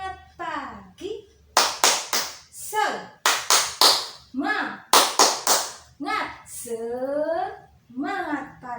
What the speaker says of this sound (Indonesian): Yuk kita tepuk semangat pagi dahulu.